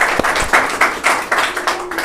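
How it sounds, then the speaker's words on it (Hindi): A church congregation applauds at a Sunday evening service, a steady wash of clapping that fills the short stretch with uneven bursts and no voice heard above it. "तो क्यों ना ताली बजाए और धन्यवाद दे उनका आने के लिए"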